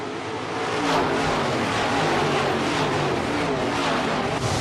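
A pack of IMCA Modified race cars roars together at a green-flag restart, a dense, loud, sustained engine rumble swelling as they accelerate away.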